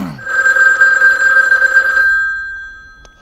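A telephone bell rings loudly and close for about two seconds, a steady bright trill that then cuts off, followed by a short quiet tail with one faint click.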